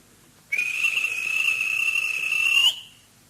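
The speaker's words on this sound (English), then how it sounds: "At last, the guard blew his whistle." A railway guard's whistle at a station blows one long, loud, steady shrill note for about two seconds, standing alone with a slight rise in pitch just before it cuts off.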